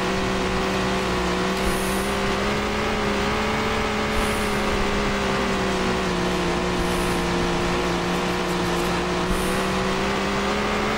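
A race car engine in Tony Stewart's All American Racing video game drones at a steady, loud pitch, holding a sustained rev with a slight waver and no other sounds over it.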